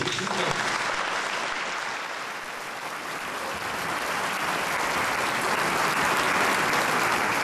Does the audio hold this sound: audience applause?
yes